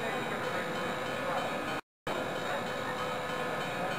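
A cartoon train from Workville rolls in with a steady, loud rumble and hiss. The sound cuts out completely for a moment partway through, then carries on unchanged.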